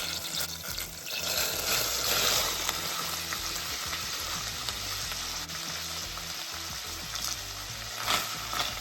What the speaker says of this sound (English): We're going to stir these suckers around and get them translucent, nice and soft.